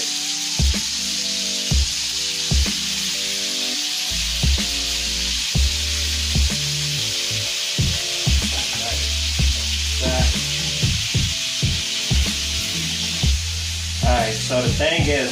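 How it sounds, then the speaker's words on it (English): Bacon and stir fry crackle and hiss in a hot frying pan in one steady sizzle, broken by regular clinks and scrapes from a utensil stirring and flipping the food. "you want to make sure you flip it so it don't stick to the pan too much"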